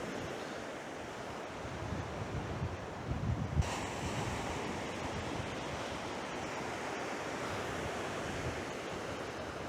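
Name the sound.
sea waves on an eroding coast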